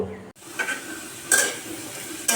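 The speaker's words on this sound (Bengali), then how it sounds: "আলু ভেজে নেওয়া হচ্ছে আগে" Potato pieces fry in a pan as a first step for an eel-fish bhuna, giving a steady soft sizzle broken by a few brief utensil scrapes and clinks, with no talking.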